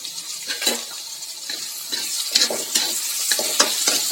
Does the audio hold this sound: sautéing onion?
yes